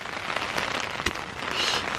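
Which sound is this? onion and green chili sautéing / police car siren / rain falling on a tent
rain falling on a tent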